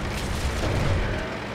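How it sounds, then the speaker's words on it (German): Distant artillery booms roll through a World of Tanks battle, a dense low rumble holding steady at moderate level with no clear separate shots. "Ja, da ist die Artillerie."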